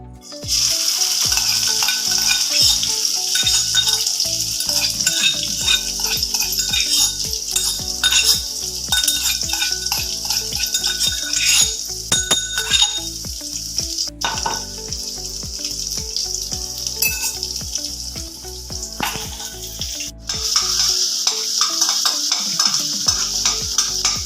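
Green chilli paste fries in hot oil for a Maharashtrian besan pitla, a steady close sizzle filling the whole stretch with frequent scrapes and stirs of a spoon against the pan, and no one speaking.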